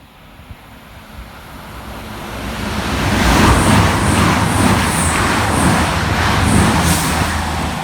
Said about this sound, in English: Passing fast for CrossCountry is 220005 and 220027, working 1 Victor 58 from Edinburgh Waverley through to Penzance.